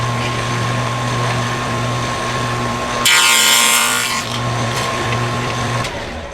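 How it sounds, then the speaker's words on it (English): A table saw cuts wood held in a box joint jig: a steady motor whine with a bright, loud burst of cutting lasting about a second, then the blade spins on alone. "We're going to clamp this down to our jig, run it through the table saw"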